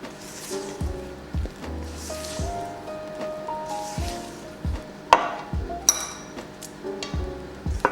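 Cupcake batter is folded in a bowl with a spatula, making soft repeated squishing and scraping sounds with a few light clinks against the bowl. The sounds are close and fairly quiet.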